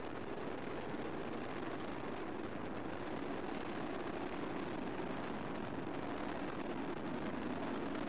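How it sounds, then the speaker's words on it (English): Space Shuttle Discovery's three main engines roar during the STS-116 launch from Kennedy Space Center, a steady, dense broadband rumble that holds at an even loudness throughout, with no voices. "Three good engines throttling back to 2/3 of the rate of thrust."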